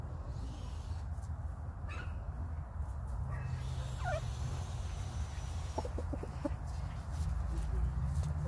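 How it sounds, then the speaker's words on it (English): A chicken by a hoop coop clucks in a few faint, scattered bursts over a steady rumble of outdoor background noise. "This is my curious chicken."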